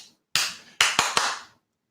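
Four sharp hand claps ring out in quick succession, the first standing alone and the last three closer together, each a crisp broadband smack with a short, roomy tail and no voices.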